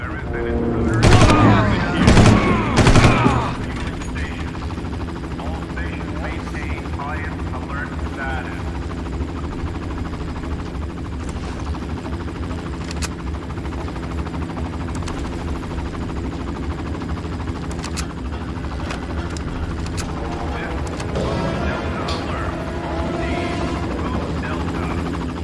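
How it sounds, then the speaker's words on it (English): Helicopter flying in Far Cry on an abandoned carrier, a constant loud rotor drone that runs throughout, opened by a burst of rapid gunfire and voices in the first few seconds. "It's the chopper time!"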